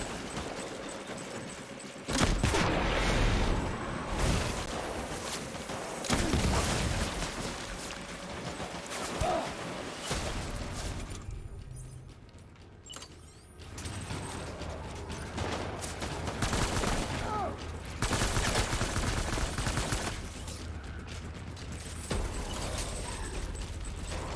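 Gunfire in the video game Death Stranding, bursts of rapid shots and clattering impacts coming in loud waves over a busy game soundscape, with a quieter lull midway.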